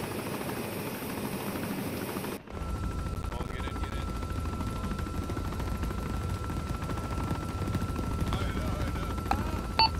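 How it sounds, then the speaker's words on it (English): A helicopter landing in the ArmA video game gives a dense, continuous rotor and engine roar, loud and steady throughout with a brief dip early on and faint clicks on top. "Second chopper's landing just south of the first."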